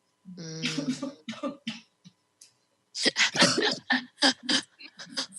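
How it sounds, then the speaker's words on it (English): A person coughs repeatedly in harsh, wet bursts, a cluster early on and then a longer run of heavy coughs, close and fairly loud. "CBD doesn't cure cough."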